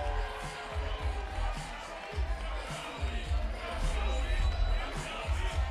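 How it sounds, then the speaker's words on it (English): A crowd at a boxing event chants in a rhythmic, repeated pulse, a broad roar of voices that swells slightly as it goes on. "Nice chant from the crowd."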